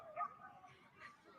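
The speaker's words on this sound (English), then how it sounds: "Stephon Diggs lost the puppy at the Adopt the Puppy Day." A small puppy gives faint high yips and soft whimpers, brief and quiet, with a bit of background noise.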